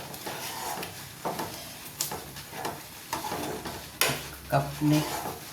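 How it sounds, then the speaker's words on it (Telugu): A spoon stirs ragi flour cooking in a pot, with repeated scraping strokes and knocks against the vessel at an uneven rhythm, close and clear. "పిండి ఉడికేంత వరకు కలుపుతూ ఉండాలి."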